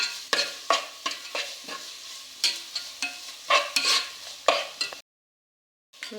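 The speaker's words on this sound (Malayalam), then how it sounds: "നന്നായിട്ടൊന്ന് ഇറക്കി കൊടുക്കാം" Spoon stirring masala macaroni pasta in a pan over sizzling heat, with a steady run of scraping strokes roughly every half second, close and clear, ending in a sudden cutoff to silence.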